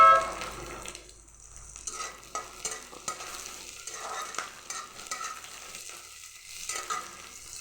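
Chopped capsicum stirred into frying onion in a pan while cooking chicken liver, with scraping spoon strokes and soft clatter over a low sizzle, no voices.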